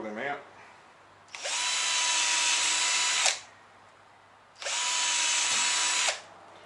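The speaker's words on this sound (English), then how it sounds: "Now I can drill them out." Two long, loud bursts from a power drill boring out kayak steering parts, each steady whine lasting roughly two seconds with a quiet gap between, heard close up.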